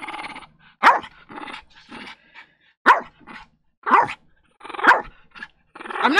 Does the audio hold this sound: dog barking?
yes